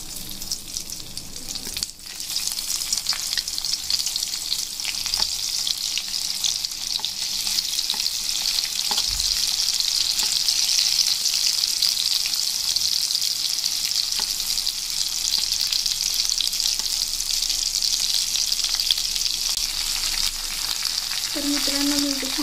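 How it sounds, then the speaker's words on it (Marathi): Stuffed okra, bharli bhendi, sizzles steadily in hot oil, a loud continuous frying hiss that holds evenly for the whole stretch, with a small stir near the end. "मी इथे छान प्रकारे भेंडी अशी टाकलेली आहे तेलामध्ये"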